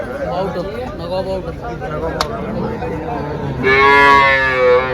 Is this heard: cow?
yes